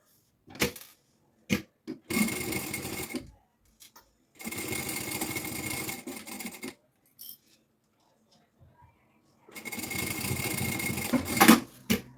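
Sewing machine stitching a close-edge seam on a preschool backpack, in three loud bursts of steady rapid stitching separated by pauses with small clicks and handling noises.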